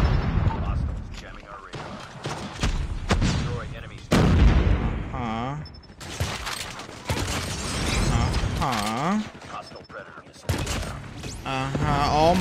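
Gunfire in a first-person shooter video game, heard as rapid bursts and booming shots mixed with clanking weapon mechanisms, loud and close, with voices over parts of the action.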